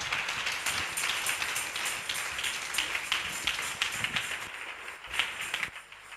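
A church congregation applauding together, a dense, steady wash of clapping that stays loud for several seconds before thinning slightly toward the end.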